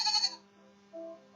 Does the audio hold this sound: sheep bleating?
yes